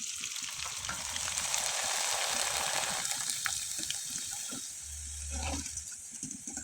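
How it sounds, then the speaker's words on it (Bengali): Mango jhuri pitha frying in hot oil gives a loud, dense bubbling hiss up close. It rises, then eases slightly, with a few faint knocks and a low rumble toward the end. "আমি সামান্য করে আপনাদের ভেজে কয়েকবার দেখিয়ে দিচ্ছি"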